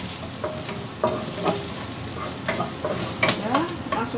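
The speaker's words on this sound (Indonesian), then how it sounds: "Saya tumis sampai harum jahenya." Ginger stir-fries in oil in a wok for a Hong Kong-style dish, a dense, close sizzle broken by repeated spatula scrapes and tosses at an uneven rhythm.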